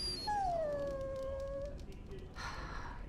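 A dog in the video game Dragon Age Origins gives one drawn-out, falling whimpering howl, fairly faint over a steady background hum, followed by a brief noisy rustle.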